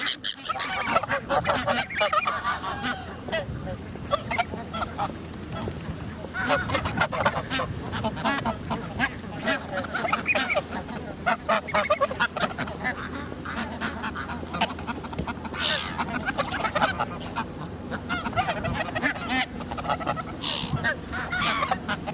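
A large flock of geese honks loudly and continuously, with overlapping harsh calls and some duck-like quacks, recorded outdoors on December 26, 2013, with faint voices underneath.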